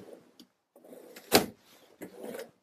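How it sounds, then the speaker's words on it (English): A drawer in a 2023 Thor Chateau 26X Class C motorhome slides open with one loud, short knock in the middle, with softer rustling and handling noises before and after it. "Nice drawer down below."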